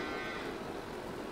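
Cattle on a farm in Farming Simulator 22 give one sustained, steady moo that fills the whole moment, close and loud with no talking over it.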